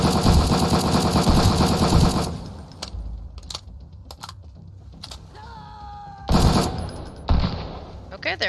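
Rapid bursts of gunfire from shooting enemies in the video game Sunkenland, dense and loud through the opening seconds, then sharper scattered shots with brief gaps and a few more bursts near the end.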